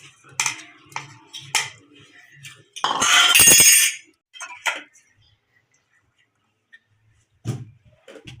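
A spoon mixes a petis filling of grated coconut, ground sugar, ginger, chillies, coriander, pomegranate, lemon juice and salt, giving scattered clinks and scrapes against a bowl with a burst of rattling and then near silence.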